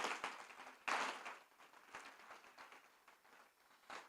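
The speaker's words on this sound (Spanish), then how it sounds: "Dale un fuerte aplauso al Señor Jesús." Congregation at a Spanish-language church service applauding for Jesus, a soft, scattered round of clapping with a couple of louder bursts, moderately distant and without talk.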